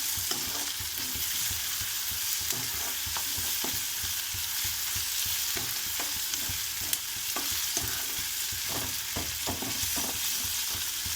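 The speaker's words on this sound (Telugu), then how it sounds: "పచ్చివాసన పోయే వరకు ఫ్రై చేయాలండి." Ginger garlic paste fries in a pan for an egg curry, giving a dense, even sizzle with frequent spatula scrapes and taps, close up and unbroken, with no talking.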